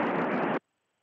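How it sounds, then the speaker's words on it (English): Radio static from an amateur radio station with the squelch opened while preparing to call the International Space Station: a loud, steady hiss of broadband noise that runs alone for about half a second, then cuts off abruptly into silence. "You will hear some static and it sounds like this."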